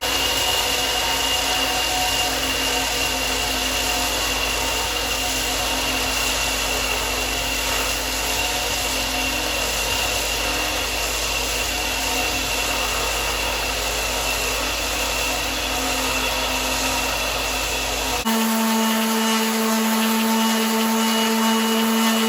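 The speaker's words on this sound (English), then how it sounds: "we're going to head over to the benchtop belt sander, get this thing flat" A benchtop belt sander flattens a cherry burl bowl, a loud, steady motor whine with a constant abrasive hiss running nearly unbroken, its pitch shifting abruptly near the end as the load changes.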